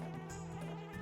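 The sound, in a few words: bees buzzing in the video game Banjo-Kazooie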